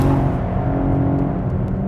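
A turbocharged engine in a 2016 Cadillac ATS-V revs in a steady, full-bodied roar that stays loud and close throughout, with no voices over it.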